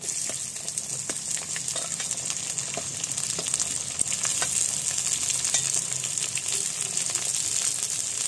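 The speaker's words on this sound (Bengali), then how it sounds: "পেঁয়াজটা একটু লাল লাল করে ভেজে নেব" Chopped onion frying in oil with whole cumin and crushed garlic for a village-style desi chicken curry, a steady close sizzle with faint stirring clicks and no talk.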